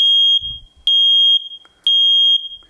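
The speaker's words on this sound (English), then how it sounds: "The smoke alarm will go off first." Loud, piercing electronic beeps from a nearby smoke alarm being tested, three long shrill tones at an even pace with short quiet gaps between them.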